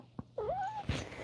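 A single close cat meow, a clear rising-then-falling cry lasting about half a second, framed by small soft noises before and after.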